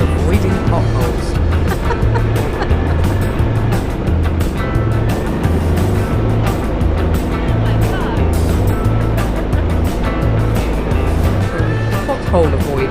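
Three-wheeled motorcycle carrying a passenger and riding a rough road on a solo trip toward Slovenia, weaving around potholes, with a steady loud engine drone and a pulsing low rumble under constant wind noise and bumps.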